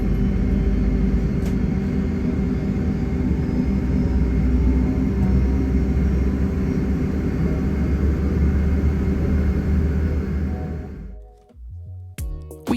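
Loud, steady jet roar and broadband rumble from an empty Boeing 767 with minimal fuel on the takeoff roll, heard from inside the cabin, holding constant before dropping away abruptly near the end.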